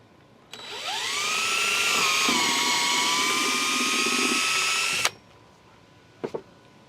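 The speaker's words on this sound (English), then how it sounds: "My hole that I'm drilling is just a tad bigger maybe than my nail" A power drill whines up to a steady high-pitched spin for several seconds, boring a hole into the wood of a bluebird house, then stops abruptly, followed by two brief clicks.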